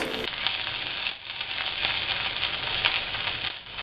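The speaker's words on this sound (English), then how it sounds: "Now add 2 cloves of garlic, chopped garlic, and half an inch of very finely chopped ginger. Cook it for a couple of seconds" Chopped garlic and finely chopped ginger fry in hot oil in a pan for roti poha, a loud, continuous close sizzle with faint stirring scrapes throughout.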